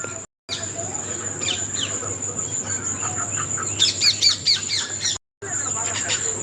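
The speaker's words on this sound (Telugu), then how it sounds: "అలా పక్షులు అలా వెళ్ళిపోతున్నాయి చూడండి" Parrots and other birds call around a guava tree at sunset with repeated squawks and chirps over a steady insect drone. The sound cuts out briefly twice.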